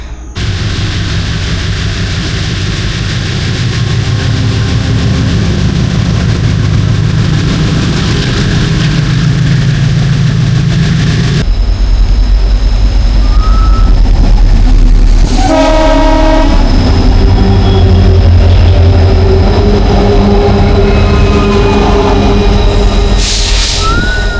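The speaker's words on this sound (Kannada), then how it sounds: "ಹಾಗೆ ಇವಾಗ ಟ್ರೈನ್ ಬರ್ತೈತೆ, ನೀವು ನೋಡಿ, ಒಳ್ಳೆ ವ್ಯೂ ಇರುತ್ತೆ." A train rumbles past close by near Dudhsagar Falls, loud and steady, its horn blaring partway through amid wheel clatter and metallic squeals.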